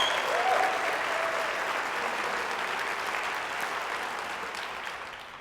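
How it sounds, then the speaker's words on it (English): An audience at a conference breaks into sustained applause, loud and dense at first and gradually tapering over several seconds. "So how about a round of applause for that?"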